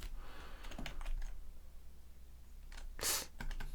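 A computer keyboard gives a quiet scatter of key presses, a few soft taps early on, then one sharper click and a couple more near the end, close up in an otherwise hushed room.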